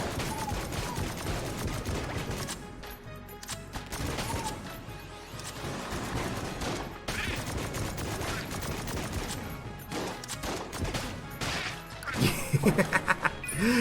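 An enemy exploding in Enter the Gungeon amid a busy stretch of rapid gunfire, crashes and smashing impacts, dense and continuous, ending in a louder cluster of hits, with no speech over it.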